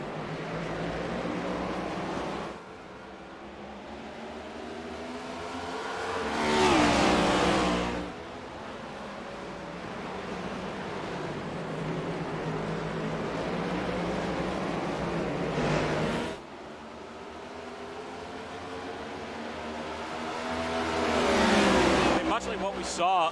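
Trans Am race cars at Mount Panorama scream past with loud rising and falling engine roars, several cars sweeping by in turn, while a commentator talks over them throughout.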